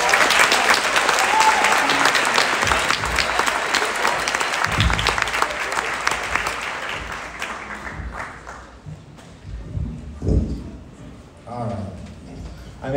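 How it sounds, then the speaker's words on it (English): An audience at a middle school spring concert gives a loud, dense round of applause. The clapping fades out after about seven seconds, and scattered talking and movement follow. "big round of applause for all these amazing musicians that we've heard"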